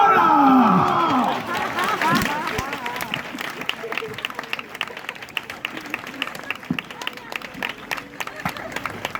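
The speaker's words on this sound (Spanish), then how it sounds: "Un fuerte aplauso" Crowd applause and cheering at a live Spanish event, loud at the start with voices over it, then thinning into scattered claps under ongoing chatter and babble.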